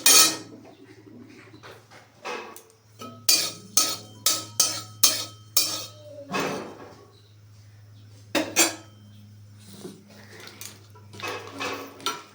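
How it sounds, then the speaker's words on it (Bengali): Dry whole panch phoron spices shifted in a dry pan give a run of sharp clinking, scraping knocks of metal utensil on pan, in short bursts with pauses, over a steady low hum. "ফোড়নটাও একটু শুকনো খোলায় ভেজে নিচ্ছি"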